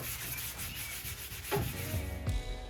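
Faint rubbing of sandpaper over a dried shellac finish on a wooden dresser, a few soft scratchy strokes with slightly louder scrapes toward the end, heard alone in a quiet room.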